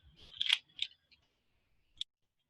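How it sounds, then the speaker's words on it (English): Perforated plastic wrap is torn off the tops of small paint containers in a paint crate. A few short, crisp tearing crackles come close and loud, then a single sharp snap follows after a pause, with no talk. "there's little perforations in the plastic. So you want to just rip those off."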